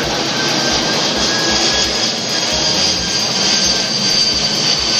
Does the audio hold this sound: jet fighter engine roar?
yes